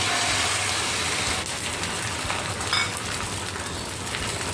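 Beaten egg hits a little hot refined oil in a frying pan, giving a steady, close sizzle and crackle that eases slightly partway through.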